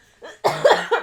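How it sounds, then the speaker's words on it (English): A single short, close cough from a sick person, a couple of rough bursts in quick succession. "my laugh turns into a cough"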